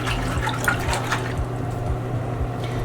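Water in a washing basin sloshes and swirls steadily as soap and an alcohol disinfectant are stirred in for cleaning a decorative embellished face mask, close and continuous with no talking.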